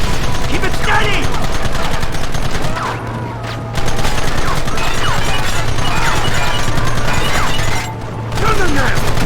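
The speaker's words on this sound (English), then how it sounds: "Gun them down!" A sustained Red Dead Redemption shootout with rapid overlapping gunshots and crashes, loud and nearly continuous, dropping briefly twice before the barrage resumes.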